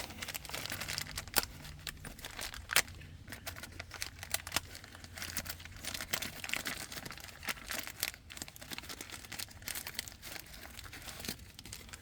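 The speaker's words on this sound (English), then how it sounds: "Gotta get this package cut open." A package of car brake parts for a 2003 Cadillac CTS rear brake job being cut and torn open, close crinkling plastic and cardboard with sharp snips and rustles scattered across the whole stretch, no talking.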